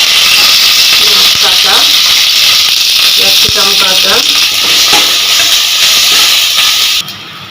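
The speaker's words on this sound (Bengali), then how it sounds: "আমি এটা সাদা তেল গরম করে নিয়েছি কড়াই শুকনো লঙ্কা ফোড়ন দিলাম তেজপাতা এলাচ লবঙ্গ দারুচিনি কারি পাতা" Dry red chillies, bay leaf, cardamom, cloves, cinnamon and curry leaves hit hot white oil in a kadai, giving a loud, continuous close-up sizzle and hiss with a voice talking over it, cutting off abruptly near the end.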